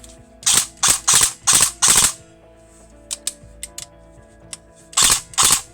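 Airsoft gun fitted with a small MOSFET firing on full auto: two close bursts of sharp mechanical cracks, several rapid shots each, followed by scattered faint clicks and a final short burst, fairly loud and near.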